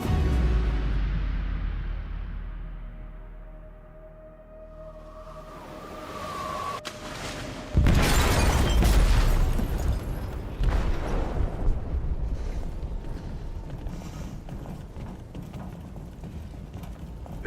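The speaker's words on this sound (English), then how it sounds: "They detonated an explosive in the hold." An explosive detonated in a ship's hold, a low rumble building before a sharp, loud blast followed by a long roaring, crackling aftermath that slowly decays.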